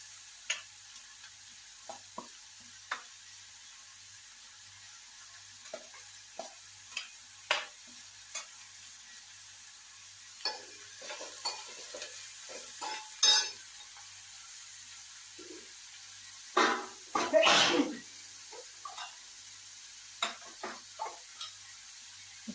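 Spinach stirred with onion and carrot in a frying pan: intermittent close scrapes and clicks of the spoon over a faint, quiet sizzle, with no talking.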